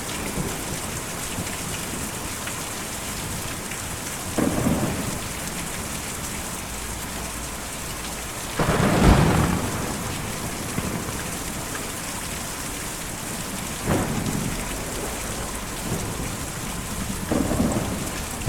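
Steady rain pours in the video game Kentucky Route Zero, with several thunder rumbles rolling through it, one heavier crack in the middle and softer ones before and after.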